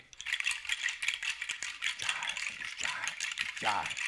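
A handmade rattle filled with collected nuts, shaken in quick bright bursts and steady rattling throughout, close and fairly loud.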